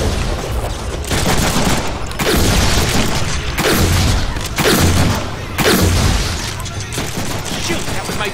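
Gunfire in the Deadpool video game, loud bursts of rapid shots in repeated volleys about a second apart, with booming impacts and some speech mixed in.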